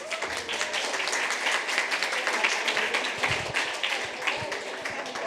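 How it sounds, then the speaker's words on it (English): An audience at a creative coding and wearable tech event applauds in a busy, even patter of many hands, moderately loud and sustained throughout. "another round of applause for Sarija and Inni"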